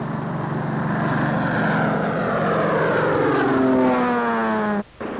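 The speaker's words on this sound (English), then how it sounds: "it pays to keep a plane busy dusting" A crop-dusting propeller plane flies low over seed fields, its loud droning engine sweeping past with a falling pitch as it passes and recedes, with no voices.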